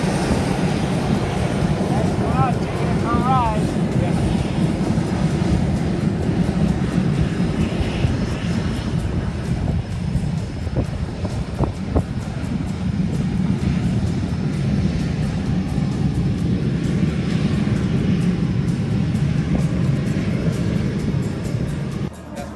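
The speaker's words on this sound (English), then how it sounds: "as we were going back to the hangar, there was a ME-262 taking off" A Messerschmitt ME-262 jet taking off at an airshow, a loud sustained engine roar that holds steady throughout, with faint crowd voices underneath.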